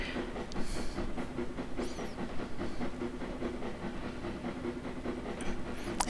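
A Welsh Highland Railway steam train crosses a bridge at Porthmadog harbour. Its steady mechanical rumble and hiss carry on without a break, with clattering wheels and a few faint distant squeals over the top.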